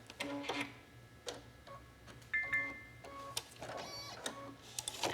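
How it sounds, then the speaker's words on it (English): Embroidery machine working on a monogrammed journal cover, a faint series of mechanical ticks, clicks and short electronic tones in an uneven pattern, close and quiet with no voices. "So we'll trim this thread."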